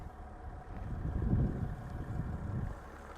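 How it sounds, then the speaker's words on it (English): A new 3-liter Duramax diesel engine in a 2021 GMC Sierra 1500 AT4 pickup idles quietly in the background, a low, steady rumble with some wind buffeting the microphone. "That is a new 3-liter diesel engine"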